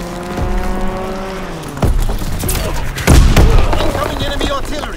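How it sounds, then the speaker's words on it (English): An enemy aircraft strafing run in Call of Duty: WWII, with an engine roar and droning tones giving way to heavy booming impacts and dense gunfire in a loud battle. "Enemy strafing run inbound."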